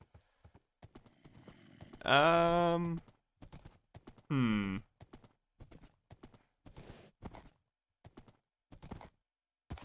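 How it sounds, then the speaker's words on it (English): Horse hooves clip-clop in a video game, a run of short, sharp taps in uneven rhythm, broken by two loud bursts of a neigh or whinny; a brief murmur from a player is heard once. "We've got ourselves a horse."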